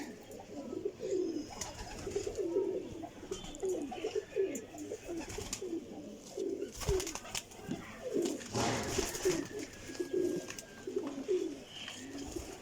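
Teddy and Sialkoti pigeons give a steady series of rolling coos close by, evenly repeated across the whole stretch, with a brief flutter or knock midway and no talking.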